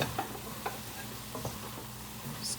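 Flour being stirred into cooking vegetables in a soup pot, soft scraping strokes at a loose rhythm over a faint sizzle, fairly quiet and close.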